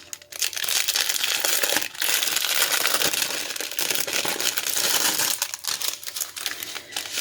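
Plastic packets of diamond painting diamonds are torn open and handled, giving dense close crinkling and crackling of plastic in long continuous stretches with a few brief pauses, no voices.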